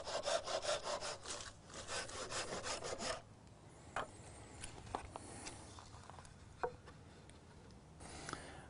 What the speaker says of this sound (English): Cut the branches to a length equal to the width and depth of the table.